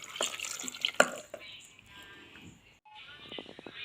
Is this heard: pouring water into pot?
yes